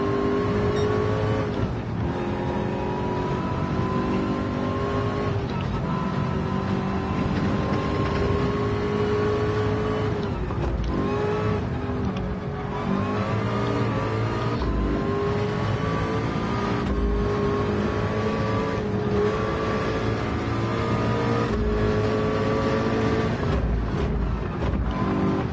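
A race car engine in a VR Le Mans racing game drones steadily through the whole stretch. Its pitch climbs and drops with repeated gear shifts, loud and continuous, with no speech.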